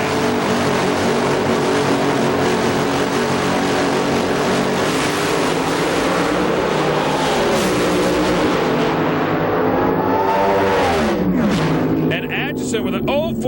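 An alcohol funny car roars down the drag strip at a 2005 IHRA nationals event, a loud sustained engine blast with pitch sweeps near the end, under continuous commentary.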